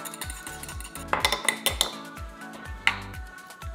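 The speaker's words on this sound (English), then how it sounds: "all I'm gonna do is crack an egg, scramble it, just so I can dunk the fish in it" A fork whisks an egg in a dish, giving a quick, steady run of light clinks and taps against the bowl, close and clear, with no talking.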